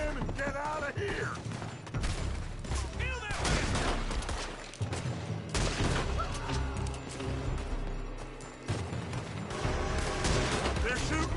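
Gunfire in a video game: dense, repeated shots and crashes with mechanical clatter, loud and close throughout, while voices shout over the battle.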